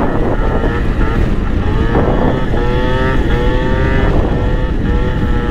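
A small 50cc Gilera Stalker scooter engine drones steadily at low revs, its tone rising and falling slightly, with rushing wind noise over the microphone throughout.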